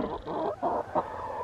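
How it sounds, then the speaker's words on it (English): Pet backyard chickens cluck close by in a short run of soft, repeated clucks, with no talk over them. "I don't know why our chickens are so friendly."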